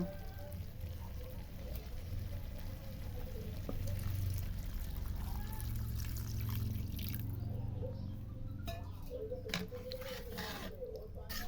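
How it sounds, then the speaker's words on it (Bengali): Water is poured into a pan of braised green banana to make curry gravy, a soft, continuous pouring and trickling sound, faint and steady throughout. "এখন ঝোলের পানি দিয়ে দেব"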